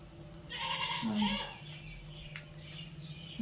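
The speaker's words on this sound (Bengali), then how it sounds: "বাইরে ডাকছে ছাগল, আজকে আমাদের নিয়ে এসছে ছাগল" A goat outside gives a single short bleat at a moderate distance, over a quiet indoor background with some faint household sounds.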